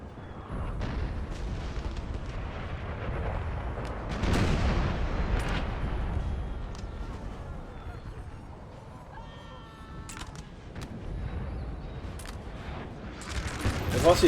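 Artillery fire rumbles through a Napoleon: Total War battle, with several deep booms and scattered crackling gunfire spread across the scene, someone talking over much of it.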